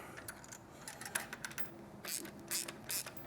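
A 12mm socket wrench tightens a shock absorber bolt on a Triumph motorcycle, giving quick ratcheting clicks and small metallic taps in short irregular bursts, close and fairly quiet, with no talk.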